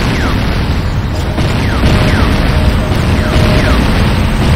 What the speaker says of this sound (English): Enemy structure destroyed.